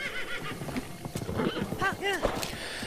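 A horse in a video game, hooves clopping in an uneven rhythm with a couple of wavering whinnies rising over the top, close, with a voice talking alongside.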